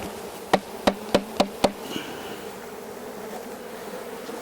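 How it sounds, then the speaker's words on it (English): Honey bees shaken out of a hive box while sorting a honey-bound hive: five sharp knocks in quick succession over a steady buzzing drone of insects, fairly close, then the buzzing carries on alone. "we're going to shake the bees on top of here"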